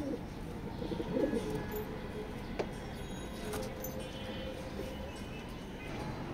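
Red checker racing pigeons coo softly inside a loft, a steady low murmur of repeated calls with a brief louder burst near the start and a faint hum of background noise.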